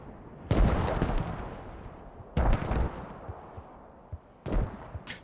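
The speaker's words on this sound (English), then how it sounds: "Got mortars landing everywhere" Mortar shells land in the video game Squad, three heavy booming explosions spaced about two seconds apart, each with a broad crash and a long rumbling decay, loud and fairly close, with no talk.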